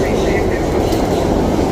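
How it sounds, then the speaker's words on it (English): A New York subway 4 train rumbles loudly nearby as it approaches, a continuous heavy roar with people talking over it. "We beat that 4 train, even though we know it's gonna pass us"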